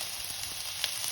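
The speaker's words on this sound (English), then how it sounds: "Let it fry up a little." Matar paneer masala, green peas and cottage cheese in spiced curry with garam masala, sizzles softly and continuously in a pan, a faint steady hiss with tiny pops and no voices.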